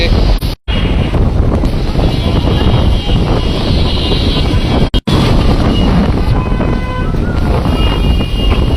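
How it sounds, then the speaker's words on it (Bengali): Strong gusty wind during a hailstorm with rain in Bangladesh's capital roars and buffets the microphone in a dense, continuous rush, with a couple of brief dropouts; gusts stay loud from start to finish. "রাজধানীতে শিলাবৃষ্টি সহ দমকা হাওয়া কিন্তু দেখা মিলছে"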